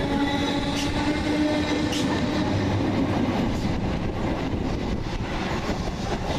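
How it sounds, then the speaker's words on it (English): Southeastern Class 455 electric train 455834 at East Croydon, a loud continuous rumble of wheels and carriages with a faint squealing tone early on, steady and close with no talk. "455834. for the 1554 Southeastern service to London Bridge."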